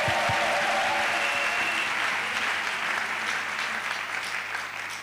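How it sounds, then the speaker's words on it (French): A church congregation applauds and cheers in acclamation during a deliverance service, dense sustained clapping that fills the space and slowly thins toward the end. "Offrant d'acclamation à Jésus-Christ."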